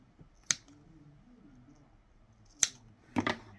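Scissors snip through a loose end of yarn from a moss-stitch washcloth, giving two sharp isolated clicks and then a quick double snip, close and crisp against a quiet room.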